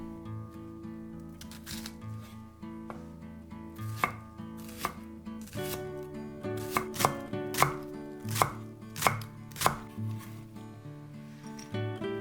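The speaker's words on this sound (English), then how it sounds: "Cut 3 small fresh chilies into chunks. Mince 100 grams of green onions." A knife chops squid, small fresh chilies and green onions on a board in irregular, fairly quiet strikes that grow quicker and sharper toward the end, over soft background music.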